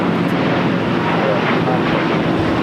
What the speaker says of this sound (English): Airlines A350 now rolling down 25 right.